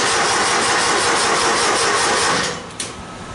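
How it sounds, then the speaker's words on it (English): A car engine cranking over on newly made battery cables, a steady loud whirring churn that cuts off near the end without starting. "Let's see if we can spin this thing over fast enough to start it."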